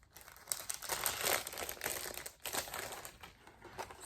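Plastic packaging around cross-stitch accessories such as a scissor fob crinkles close by in quiet bursts of crackling and rustling, with no talking.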